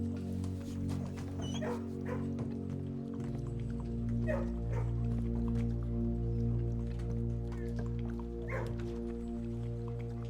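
Dogs bark in a video game, Blue Prince, with a few short barks spaced several seconds apart over a steady, droning musical background and no talk.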